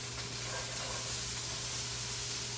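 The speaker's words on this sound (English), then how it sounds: "now this is the point where we're just going to hit it with some onions" Onions hit a hot pan with cumin seeds, giving a loud, continuous sizzling hiss that holds steady throughout.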